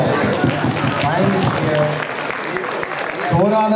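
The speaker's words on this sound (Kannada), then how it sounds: "give them a big round of applause" An audience applauds at a Kannada Rajyotsava cultural event in Hamburg, clapping steadily and mixed with crowd noise, while voices talk over the applause.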